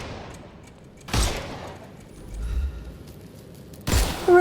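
Gunfire in a Sherlock Holmes video game: two sharp, loud shots about three seconds apart, with a dull low thump between them over quiet background.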